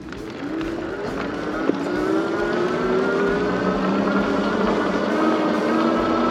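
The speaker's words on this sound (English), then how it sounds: "Now we're going to go ahead and try level 3 pedal assist, throttle only." An Isinwheel M10 Pro electric bike rides on throttle only at assist level 3. Its steady electric motor whine climbs slowly in pitch over constant wind and road rush, close and continuous, with no talking.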